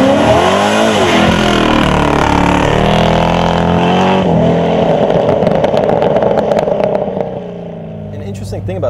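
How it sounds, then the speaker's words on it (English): A sports car engine revs hard and then launches using launch control, its loud rising roar climbing in pitch through the gears before easing off; voices are faintly heard. "That, my friends, is launch control."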